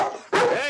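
A dog in a 1970 Soviet film scene gives a single sharp, close bark after a brief whine, loud and alone.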